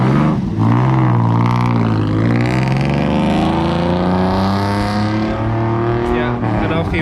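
A tuk-tuk pulls away on a Bangkok street at night, its motor droning and rising in pitch as it drives off, loud and close and filling the whole stretch.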